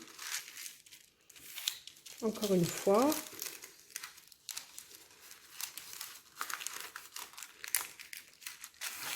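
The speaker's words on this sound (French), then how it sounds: "on prend une feuille de papier cuisson qu'on plie" Sheet of baking parchment being folded and creased in a kitchen while bread is prepared for a cast-iron pot, with close, crisp crinkling bursts and a person talking throughout.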